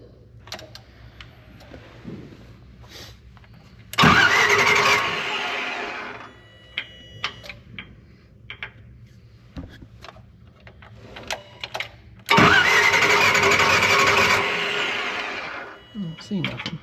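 An inoperative Nissan forklift engine cranks in two loud bursts of a few seconds each, whirring without catching, separated by quieter clicks and handling noise.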